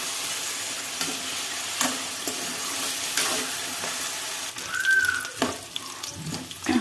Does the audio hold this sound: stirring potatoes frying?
yes